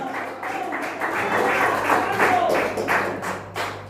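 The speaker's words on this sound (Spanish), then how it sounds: "¿Cuánto le dan un aplauso al Señor?" A church audience gives a round of applause for the Lord, many hands clapping in a loud, sustained wash with some murmuring and background sound mixed in.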